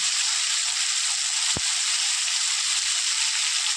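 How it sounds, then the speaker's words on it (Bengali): Whole Bombay duck fish pieces fry in oil with a constant bright sizzle, broken once by a single dull knock midway, and no voices. "এবারে এই পিসটাও লাল লাল করে ভেজে নেব।"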